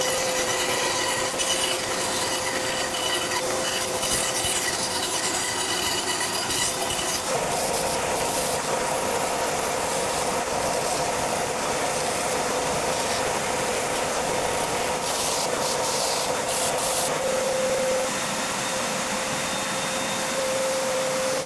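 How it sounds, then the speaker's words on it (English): A spindle sander grinds steadily along the edge of a wooden guitar headstock template, a continuous rasping rub that shifts slightly in pitch as the piece is worked, with no talking. "we'll get the spindle sander out, I'll sand it up"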